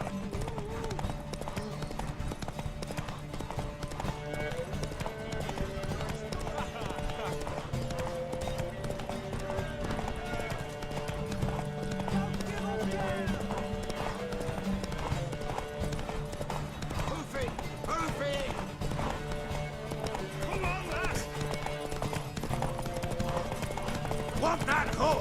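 Horse hooves clip-clop through a Witcher 3 quest scene, a steady rhythmic trot under game music and character voices talking throughout.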